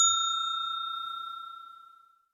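Single bright bell ding sound effect, a clean metallic strike ringing out and fading smoothly over about two seconds, alone with no voice.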